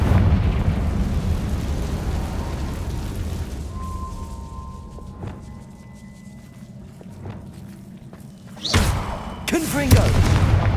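A Confringo fire-blast spell exploding in the wizarding game Hogwarts Legacy: a loud, sudden burst near the end, quickly followed by a second blast, after a stretch of low rumbling game ambience.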